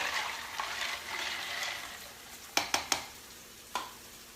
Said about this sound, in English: Let me just give it a stir.